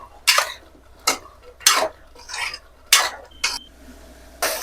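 Cluster beans being stirred in oil in a pan for a curry, with about seven distinct scraping clinks of a utensil against the pan at a steady pace, close and fairly loud, with no voices.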